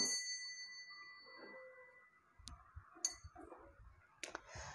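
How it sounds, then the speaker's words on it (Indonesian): A small bell rings once with a long ringing decay, followed by several light clinks and taps in a quiet room. "ditandai lonceng berbunyi"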